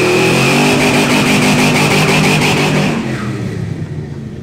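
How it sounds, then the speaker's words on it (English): Car engine revving hard during a burnout, a loud sustained roar with rhythmic pulsing that drops off and fades near the end, heard alone without talk. "Chris is going to be doing the burnouts."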